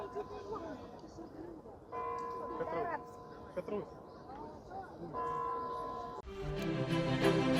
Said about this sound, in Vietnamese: Đó là tiếng chuông đồng hồ tháp Kremlin.